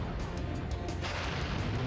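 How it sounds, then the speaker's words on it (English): Explosion effect in the PlayStation game Spyro 2: Ripto's Rage, a dense roaring blast of rumbling noise that stays loud and sustained for about two seconds, with crackling pops layered on top. "you'll know it's gone because you'll hear an explosion sound effect"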